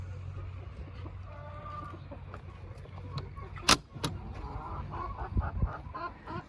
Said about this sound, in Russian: Такие звуки издает курица, если она снесла яйцо.